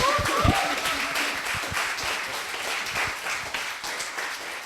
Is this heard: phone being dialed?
no